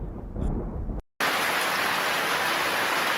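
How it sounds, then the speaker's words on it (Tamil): Steady, dense rain hisses loudly and evenly after a brief break, with a low rumble underneath, preceded by a muffled, boomy stretch of noise. "டேய், மழை பெய்ய போகுதுடா, வாடா ஓரமா போய் நிக்கலாம்."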